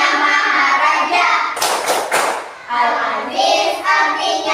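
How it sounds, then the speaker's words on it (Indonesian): Classroom group clapping to the Asmaul Husna chant during a teacher's lesson, a few brief bursts of claps amid children's and a teacher's voices, fairly close. "Ibu pimpin tepuk Asmaul Husna"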